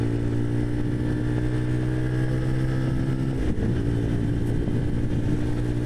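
An old motorbike engine revs hard with the throttle wound fully on. It holds a steady, loud, continuous drone that stays close throughout, with a brief dip partway through.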